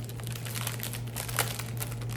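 A plastic-wrapped floss pack with a card in front is handled and opened, giving faint, close crinkling of plastic over a steady low hum, with a slightly louder crackle near the middle.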